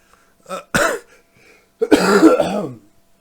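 A couple of sharp, close coughs followed by a longer, rougher throat-clearing cough, with short quiet gaps between them.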